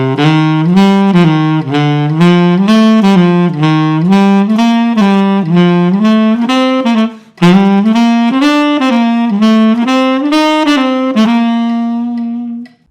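A saxophone plays a dotted eighth and sixteenth note rhythm exercise, a long-short lilting pattern moving up and down in steady phrases, close and loud with no talking.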